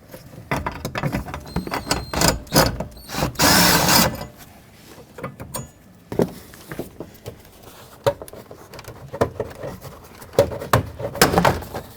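Plastic push clips snap loose from the knee panel of a 2003-2021 Chevrolet Express van, giving sharp irregular pops, rattles and clicks close by, with a dense burst of clattering midway and no talking.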